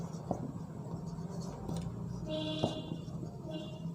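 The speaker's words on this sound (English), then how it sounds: "let me write down the equation" Chalk or marker writing out a maths equation on a board, a few short scratchy strokes and taps in a quiet room, close and alone without talk.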